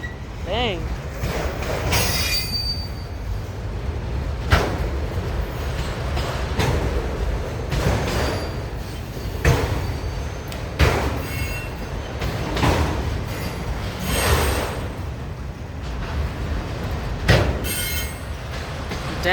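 A very long freight train passes at Wartrace, Tennessee, with rumbling wheels and intermittent high, piercing wheel squeals repeating over a steady roar, fairly close and continuous throughout.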